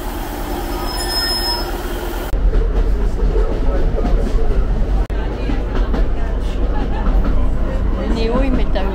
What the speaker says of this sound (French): Voilà notre train. Il est grand.